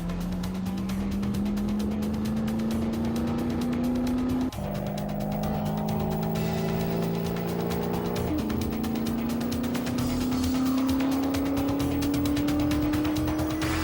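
The Vesco Howard land speed record car runs flat out on a 12-mile salt flat course at about 152 mph, its engine a loud steady drone that climbs in pitch and drops sharply at two gear shifts.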